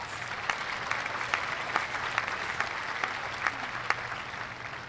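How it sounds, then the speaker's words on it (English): Audience applause for Poetry Out Loud state finalists at a 2022 Washington State competition: steady, dense clapping from a sizable crowd in a hall, continuous for several seconds with a few sharper individual claps standing out. "Let's give them a round of applause"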